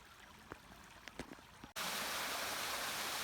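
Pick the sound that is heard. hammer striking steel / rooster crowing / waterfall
waterfall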